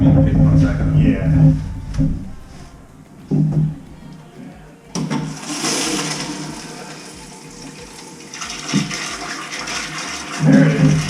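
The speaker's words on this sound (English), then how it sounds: "See how it's not really flushing?" A clogged toilet is flushed during a plumbing auger lesson, giving a sudden rush of water midway that gurgles and swirls weakly while people talk nearby before and over it.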